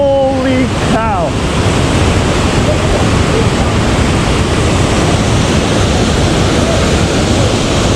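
A river rushes through Kurobe Gorge in Japan as a steady, loud broadband roar of water that fills the whole clip, with a brief voice near the start.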